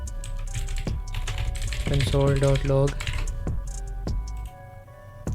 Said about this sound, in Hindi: try typing the following line of the code and press inter